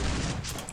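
Burst of gunfire in a competitive match of a multiplayer shooter game, a dense, loud crackle of shots lasting under a second that fades slightly toward the end.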